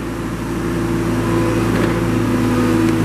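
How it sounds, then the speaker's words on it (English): A 2013 Moffett M70 truck-mounted forklift runs with a steady mid-pitched engine hum and drone as its mast moves in and out, close and constant over a few seconds. "Show you the mast going in and out."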